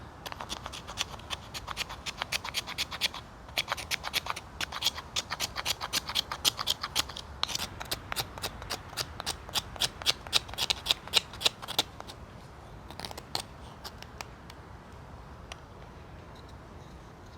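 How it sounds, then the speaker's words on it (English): The back edge of a knife scraping curls from a stick of fibrous fatwood pine, a long run of quick, dry rasping strokes in close succession, loud and close before slowing and thinning out toward the end. "I'm going to use the back edge of my knife just on this fat wood to start scraping down"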